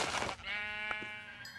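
A single sheep in Minecraft gives a clear, wavering bleat that holds for about a second against a quiet background, with no talking.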